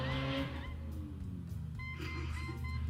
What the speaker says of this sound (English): That guy has a loud exhaust.